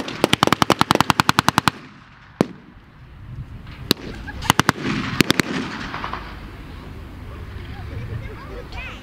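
Rapid bursts of blank gunfire crack out at a military battle reenactment show between Allied and Axis forces, close and loud volleys at first, then scattered single shots and short bursts over open-air crowd noise and an announcer's voice.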